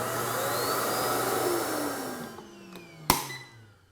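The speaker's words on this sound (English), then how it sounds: "Hit this button and it automatically empties the dust bin." Ecovacs T30S Omni dock automatically emptying the hand vacuum's dust bin, with a loud steady suction whir that winds down and ends in a sharp clunk, then fades out.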